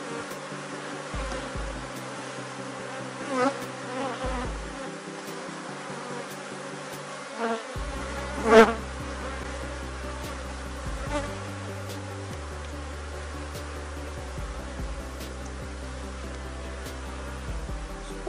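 Honeybees buzz steadily around an open hive during a colony inspection, a dense continuous drone close by with a few louder passes and knocks of handling, no talking.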